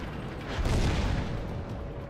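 Tank cannon fire in a tank battle video game, a dull heavy blast swelling near the start and rumbling on as a broad, sustained roar of gameplay noise.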